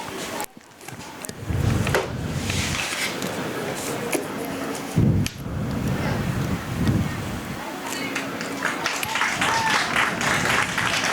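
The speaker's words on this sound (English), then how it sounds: "You hear the crowd" Spectators at a high school field hockey game between Durfee and Bridgewater-Raynham clap and cheer after an injury timeout, a broad crowd sound mixed with wind buffeting the microphone and voices talking over it.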